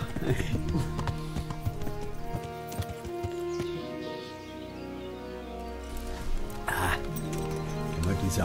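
Steady clip-clop of horse hooves at a walking rhythm in the video game Kingdom Come: Deliverance, with someone talking over it and a brief cough partway through.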